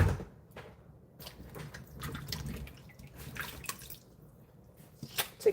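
Water runs and splashes irregularly as bell peppers are rinsed by hand, close and fairly soft, with intermittent drips and sloshing bursts.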